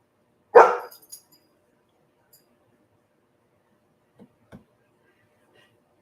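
A single loud, close dog bark at the start, followed by a couple of faint short sounds and near-silence in an indoor room.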